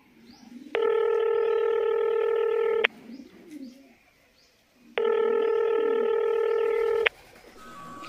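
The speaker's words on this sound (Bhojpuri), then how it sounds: "रान जी फोन कर देखिए कहाँ पहुँचल" A phone gives two long, steady ringback tones after a number is dialed, separated by a pause, with birds cooing faintly in the background.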